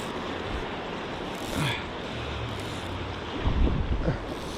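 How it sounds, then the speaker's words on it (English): Fast-moving stream water rushes around a wader-clad angler's legs, a steady broadband wash with gusty microphone buffeting and occasional louder surges and splashes. "The water is really moving."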